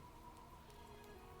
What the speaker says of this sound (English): Well, it is raining.